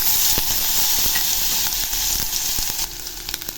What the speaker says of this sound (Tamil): இப்போ இஞ்சி பூண்டு போட்டுக்கலாம்.